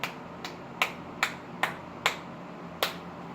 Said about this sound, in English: Give you a little golf clap